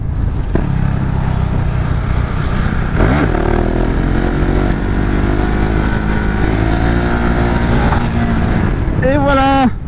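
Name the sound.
motorcycle doing wheelies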